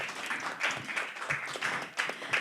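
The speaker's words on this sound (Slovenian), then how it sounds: "En velik aplavz za Niko, en velik aplavz za Ano." Applause from a crowd at a slam poetry evening of the Ljubljana poetry festival, steady clapping with rising and falling swells, moderately distant and without talk.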